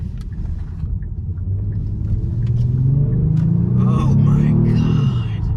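Kia Stinger engine rumbling low and steady while driving, the drone rising as the car speeds up toward the end, with someone talking over it throughout.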